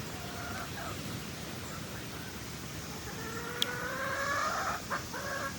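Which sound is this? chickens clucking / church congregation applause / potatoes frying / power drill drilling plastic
chickens clucking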